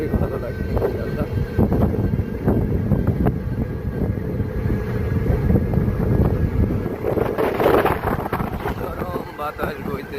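Outdoor wind rumbles and buffets the microphone continuously under a cloudy sky, with a voice speaking over the steady low rush.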